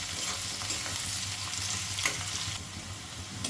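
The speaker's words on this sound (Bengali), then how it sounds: "হাইতে করে দিয়ে একটু ভাজা ভাজা মতো করে নেব সব কিছু" Onion, spices and other ingredients for an egg chochori frying on a high gas flame, a loud, even, unbroken sizzle with faint stirring underneath.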